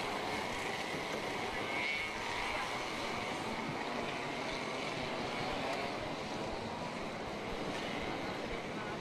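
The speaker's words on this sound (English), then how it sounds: "the engines are just revving at a very low rate" Racing kart engines idle and rev at a low rate before the start of a Singapore Karting Championship Masters race, heard as a continuous distant drone under the noise of the track.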